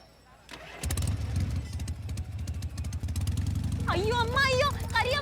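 A motorcycle engine cranks on its electric start button and catches, settling into a steady, fairly loud idle, while people talk over it and a voice rises toward the end.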